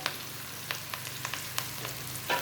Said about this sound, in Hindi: और प्याज़ों को भी हल्का सा बस हमने सौते करना है